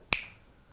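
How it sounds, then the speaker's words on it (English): A single sharp finger snap, close and crisp, with a quick decay into quiet. "is that an anonymous finger snap?"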